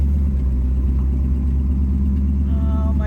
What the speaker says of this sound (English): Listen to that engine, you guys. 400 horsepower